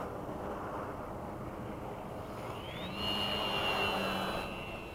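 A radio-controlled Gee Bee model airplane flies at a distance, its faint engine whine rising in pitch midway and holding over steady wind noise outdoors.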